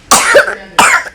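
Two harsh, close coughs from a young child with a cough and fever, each a quick burst with a brief gap between them.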